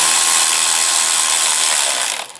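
A power tool tightens a new crankcase vent valve on a 2008 Mercedes-Benz GL320 CDI, a loud, close, continuous high whine that holds for two seconds and then winds down.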